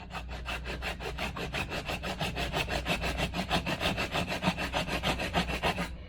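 A flat file is worked back and forth on a part from a Stromberg CD2 175 carburettor off a Triumph Stag, a steady rhythmic rasping of many quick even strokes, close and loud, with no speech.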